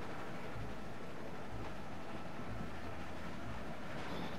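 Moving train in The Walking Dead video game, a continuous rumbling clatter with faint periodic low thumps roughly once a second, steady and even with no speech.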